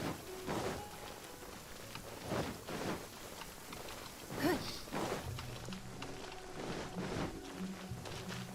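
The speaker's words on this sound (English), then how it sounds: "It's raining." Steady soft rainfall in the game Genshin Impact patters in the background, with occasional louder thumps and low sounds over the quiet hiss of rain.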